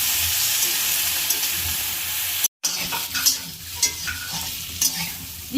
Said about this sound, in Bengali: ইঁচড়গুলো লাল লাল করে ভেজে নেব